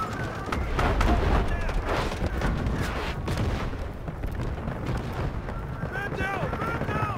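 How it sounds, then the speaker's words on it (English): Grenade launch followed by booming explosions amid continuous gunfire in the military shooter Delta Force, a dense, loud battle din with voices calling out over the combat throughout. "Launching grenade!"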